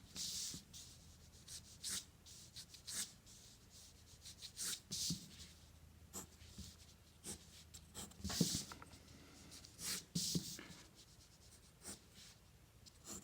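A pen or pencil sketching freehand lines on paper, with repeated short scratchy strokes in an uneven rhythm, close and fairly quiet, no talking.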